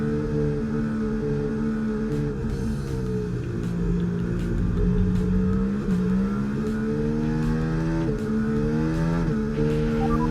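An F1 race car engine in the video game F1 24 drones and revs continuously, its pitch rising and dipping through gear changes while tyres are warmed, loud and steady without speech.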